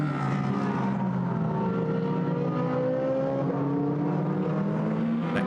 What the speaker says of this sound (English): Next gaggle of cars goes through with Pavel Strukov just keeping Murad Sultan